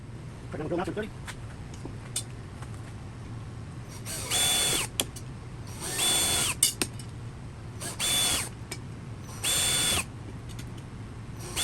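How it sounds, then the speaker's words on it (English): A power drill whirs in four short bursts of a couple of seconds each, close by, drilling aircraft fuselage parts for a bootcowl, with a steady low hum beneath and quiet gaps between. "I'll drill it on that one."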